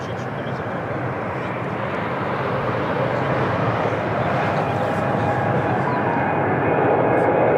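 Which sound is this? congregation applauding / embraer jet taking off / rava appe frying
embraer jet taking off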